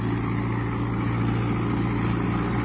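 A tractor runs steadily at 1800 RPM while tilling a potato field after rain, giving a dense, continuous engine drone with an even mechanical hum and no pauses.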